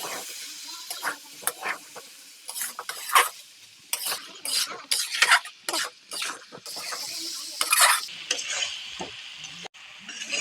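Ground peanut masala is stir-fried for a soybean and potato curry, bursts of loud sizzling and hissing mixed with clattering spoon scrapes against the pan in an uneven, stop-start rhythm, with no speech.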